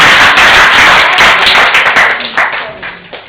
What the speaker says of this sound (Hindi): थोड़ा प्रोत्साहन के लिए जोरदार तालियों से स्वागत करें सभी का